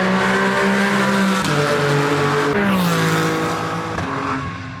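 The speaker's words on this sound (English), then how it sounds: "This Porsche Cayman GT4 car." A Porsche Cayman GT4 race car drives hard around the Donington track, its engine loud and close, pitch climbing and dropping through gear changes as it passes.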